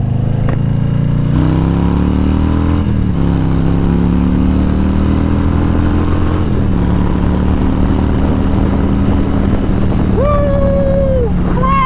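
A 2022 Harley Low Rider S being ridden, its engine droning steadily and rising in pitch through the gears, with a brief break near the end where a missed shift lets the revs flare.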